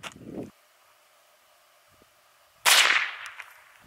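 A single sharp crack of a .22 LR rifle firing a Winchester 42 grain Power Point round into plywood, loud and close, after a short faint tap and a stretch of quiet.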